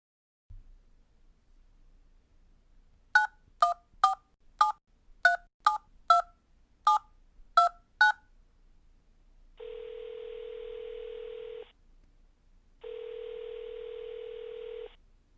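A telephone number being dialed on touch-tone keys: eleven crisp DTMF beeps in an uneven rhythm, followed by two long, steady tones separated by a brief gap, heard alone against near silence.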